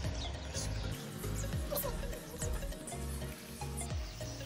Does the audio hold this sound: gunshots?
no